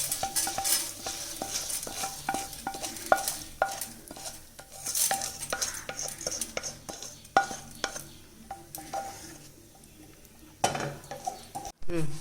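Dried red chillies roast in a pan for a coconut and lentil chutney, a close, regular scraping and clinking of a ladle against metal over a light sizzle, pausing briefly before resuming.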